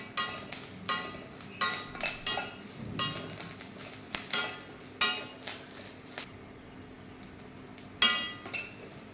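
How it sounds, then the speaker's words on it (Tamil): Coconut and onion sautéing in a pan for chicken, stirred with a metal spoon: repeated sharp scraping clinks against the pan every half-second or so in bursts, over a low soft sizzle, close and fairly loud. "இந்த மாதிரி நல்லா வதக்கிட்டே இருங்க. கைவிடாமல் கிண்டிக்கிட்டே இருக்கணும்."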